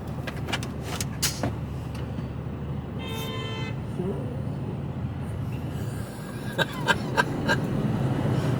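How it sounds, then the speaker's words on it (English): On a UK motorway inside an HGV container truck cab, a few short horn toots sound from nearby traffic over steady road rumble, with brief clicks and a faint voice in the mix. "No wonder we got beeped at."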